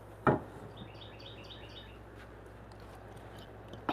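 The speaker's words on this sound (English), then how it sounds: "Birds are my friends here." Small birds chirp in quick, faint repeated notes outside a woodworking workshop, framed by a couple of sharp wooden knocks from chiseling at the start and end.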